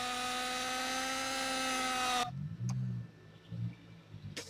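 A simulated helicopter in a flight simulator game whines with a loud, steady rotor and turbine drone that cuts off abruptly after about two seconds, leaving faint low rumbles and clicks.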